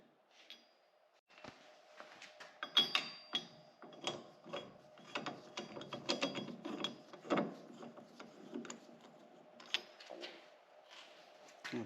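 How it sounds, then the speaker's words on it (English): Close mechanical clicks, ratcheting and clanks from loosening wheel nuts on a 2020 Polaris Ranger XP1000 Northstar Ultimate UTV with a tool, an irregular series of metallic rattles, with no impact wrench burst clearly standing out. "we're going to use the impact just to take them off"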